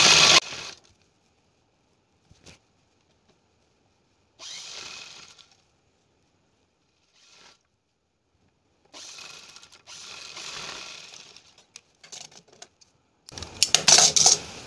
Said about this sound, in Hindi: यहीं से हमें स्टार्ट करना है सिलाई लगाना।